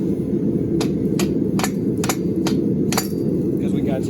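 A hammer striking expanded metal for a handle, about eight sharp metallic taps at an uneven pace over a steady loud background hum.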